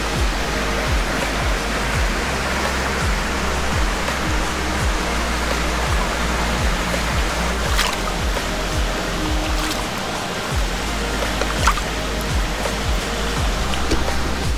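Clear stream water flowing beside a mountain hiking trail in New York State: a constant close rushing and babbling wash, steady and fairly loud throughout, with no voices.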